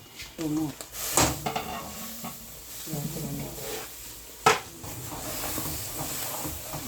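Mango pieces frying in a pan give a steady low sizzle with stirring scrapes and a sharp clank near the middle, while a voice talks faintly over the cooking.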